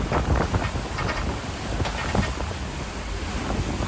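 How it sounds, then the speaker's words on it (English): Huge ocean waves of five to six metres crash around the sailboat Lifgun during the OSTAR 2022 transatlantic race. The loud, continuous surf and spray blend with heavy wind buffeting the microphone, and no one speaks. "Huge waves, 5-6 meters I would say."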